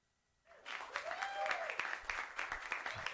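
Rapid hand claps blending into a dense, applause-like patter, moderately loud and continuous after a brief quiet start.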